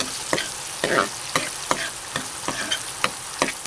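Garlic and onion frying in a pan for chicken adobo with kangkong, stirred with a series of sharp scraping strokes over a steady sizzle, close and moderately loud with no talking.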